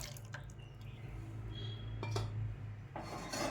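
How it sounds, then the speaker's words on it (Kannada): Cooked toor dal goes into a pan on a gas stove: a few close metallic clinks and scrapes of a utensil on the pan with soft wet plops, over a steady low burner hum, no voices. "ಈಗ ಗ್ಯಾಸ್ ಹಚ್ಚಿ ಬಾಣಲೆ ಇಟ್ಟುಕೊಳ್ಳಿ ಬೇಯಿಸಿಟ್ಟುಕೊಂಡ ಬೇಳೆಯನ್ನು ಹಾಕಿ"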